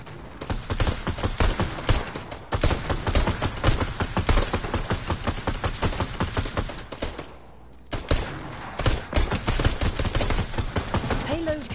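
Near-constant automatic gunfire in a PS4 shooter as the player fires at an enemy, loud rapid rounds rattling for about seven seconds, a brief gap, then another sustained stream of shots.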